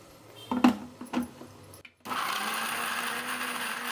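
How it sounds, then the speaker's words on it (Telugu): A kitchen mixer grinder starts up after a few clinks of the jar being set in place, then runs with a steady loud whirring drone, grinding cooled biryani masala for a pressure cooker chicken biryani. "ఇప్పుడు దీన్ని మిక్సీ పెట్టేద్దాం."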